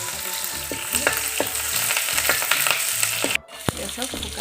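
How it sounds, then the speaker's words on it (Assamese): Garlic, onion and dried chillies sizzle together in oil in a clay pan, a steady close crackle with occasional stirring scrapes, a brief pause near the end, then the frying resumes. "নহৰু আৰু পিঁয়াজখিনি মই একেলগে ভাজি লৈছোঁ।"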